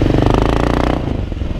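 A BMW G 650 X motorcycle engine runs close by, a loud, throbbing single-cylinder idle that settles slightly lower partway through.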